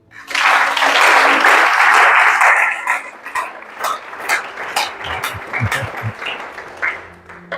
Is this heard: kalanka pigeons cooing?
no